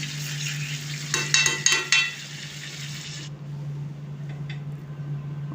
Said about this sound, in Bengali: আবার একটু ভালো করে মিশিয়ে দেবো তেলে যে তেলটা ছেড়েছে তার সাথে মাংস আর মশলাকে